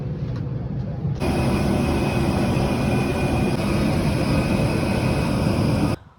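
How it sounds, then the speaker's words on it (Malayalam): A passenger airplane that has just landed at Bangalore airport, heard as a steady, loud cabin roar of engine and airflow that runs for about five seconds and then cuts off abruptly. "ബാംഗ്ലൂർ ഇവിടെ എയർപോർട്ടിൽ ഇറങ്ങിയിരിക്കുകയാണ്"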